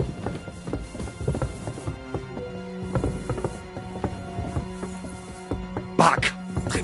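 Horses' hooves clop at a brisk, uneven pace in the medieval video game Kingdom Come Deliverance, mixed with creaking tack and mechanical clatter, with a sharper knock near the end.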